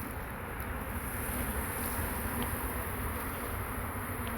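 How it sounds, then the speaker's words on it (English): A dense, steady hum of many bees buzzing close by, continuous and even throughout. "You free little bees."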